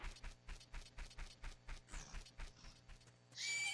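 Epona the horse whinnies over a steady run of clip-clopping hooves in the Majora's Mask video game, about a dozen evenly spaced hoofbeats close and loud, ending in a burst of bright game sound effects.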